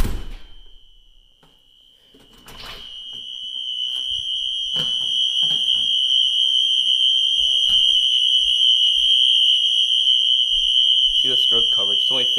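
Fire alarm running on continuous at night, a steady piercing electronic tone with harmonics held from about two seconds to the end, loud and unbroken, with faint clicks and some movement noise beneath it.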